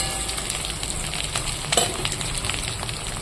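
Two eggs fry in hot oil in a pan just after a brinjal fry was cooked. The sizzle is steady and close, with one brief louder crackle near the middle.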